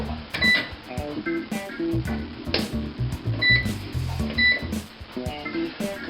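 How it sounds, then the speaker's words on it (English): An oven control panel beeps as it is switched on and set, a series of short, sharp electronic beeps close by amid light kitchen handling sounds. "First thing we're going to do is turn on our oven."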